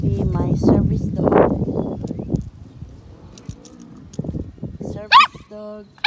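A pet dog barks, yips and whimpers in short bursts amid excited talk from people nearby, with a few sharp high yelps near the end.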